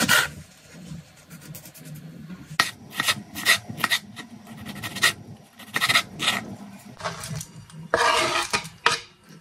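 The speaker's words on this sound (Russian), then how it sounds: "Сначала 2-3 сочных помидора нарезаем на средние кубики" A knife chops tomatoes into medium cubes on a board in uneven bursts of sharp cuts, with brief pauses between runs of chopping.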